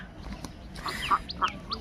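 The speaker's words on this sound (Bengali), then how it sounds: "দেখতে পাচ্ছেন কত হাঁস" Ducks on a village canal quacking a few times at mid distance, in short calls over a faint outdoor background, with no talk.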